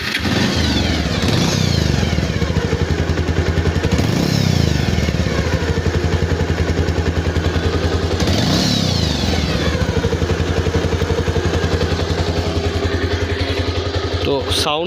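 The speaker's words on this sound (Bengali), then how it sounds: "তো স্টার্ট দিয়ে দেখবো ইঞ্জিনের কি অবস্থা" A Bajaj Pulsar motorcycle engine fires up and settles into a steady, throbbing idle, loud and close, with a couple of brief revs partway through and voices talking over it.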